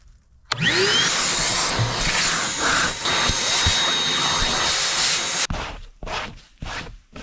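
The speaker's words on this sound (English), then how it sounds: "Okay, it is time for the vacuum." A vacuum cleaner roars steadily at close range for several seconds, its whine shifting as it moves, then cuts off followed by a few scattered knocks.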